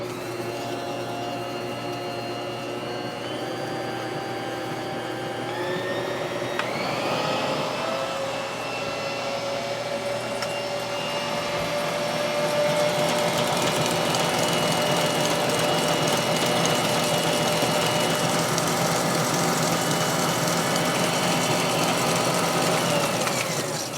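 Kitchen stand mixer with a cookie paddle and the lid on, whirling fresh-milled cookie dough with sugar: a close, steady motor whine that shifts pitch as it speeds up, growing louder and harsher in the second half.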